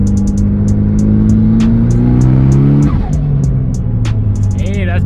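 A turbocharged Mitsubishi Evo 8, built to about 420 wheel horsepower and running around 30 to 36 PSI of boost, pulls hard from roughly 3,000 to 5,000 rpm. The loud engine note climbs steadily, dips briefly at a shift, then keeps droning, close and constant.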